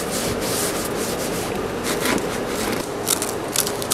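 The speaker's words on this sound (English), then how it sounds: "Now watch what happens when I wipe it with a rag." A rag rubbed over the freshly sanded surface of a small one-person boat under repair, giving a steady close scuffing and rasping with brisk repeated strokes.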